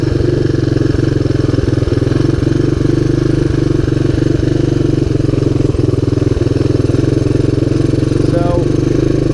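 A 1985 Honda ATC250ES three-wheeler engine runs steadily at a loud, close idle-like drone with a constant low throb and a regular ticking pulse, unbroken throughout.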